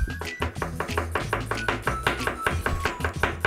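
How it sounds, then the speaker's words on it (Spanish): A knife chopping onion into fine julienne strips on a board: a steady rapid rhythm of about a dozen crisp, close cuts with short gaps, no talking. "Vamos a cortarlos en juliana, lo más fina posible."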